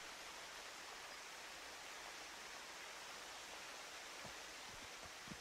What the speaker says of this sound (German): Und in der Mitte kommen halt oben von oben auch noch Wasserfälle runter.